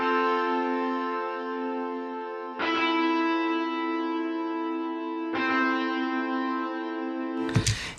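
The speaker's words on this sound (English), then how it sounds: "There's even a distortion guitar." Sustained, buzzing distorted electric guitar chords, each held for a few seconds before a new strum, ringing loud and steady with a final noisy hit.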